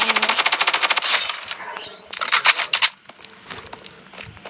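Rapid automatic gunfire in the shooter game Blood Strike: a dense, evenly spaced burst of loud shots that gives way to scattered single rounds and clatter, fading quieter toward the end.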